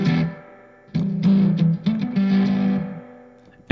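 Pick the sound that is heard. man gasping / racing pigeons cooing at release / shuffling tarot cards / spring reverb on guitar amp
spring reverb on guitar amp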